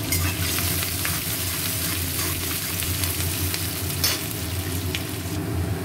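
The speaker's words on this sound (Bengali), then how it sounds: "পেঁয়াজটা ভাজা ভাজা হয়েছে" Chopped onions sizzle steadily in hot oil in a kadai, with cumin seeds and dried red chillies already tempered in the pan. The frying is loud and continuous, with occasional scraping stirs and no talking.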